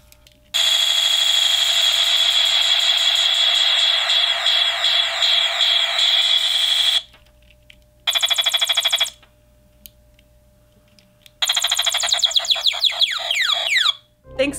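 Circuit-bent electronic toy emitting harsh, distorted buzzing and squealing tones in loud bursts separated by silences, with sweeping pitch glides near the end.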